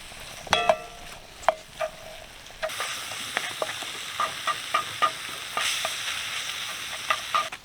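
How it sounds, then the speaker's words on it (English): Chopped nacho ingredients cook in a cast iron skillet over a campfire, a soft sizzle that grows after a few seconds, with repeated clinks and scrapes of a utensil stirring the pan at close range. "go ahead and get that all chopped up. And let that start cooking on the fire"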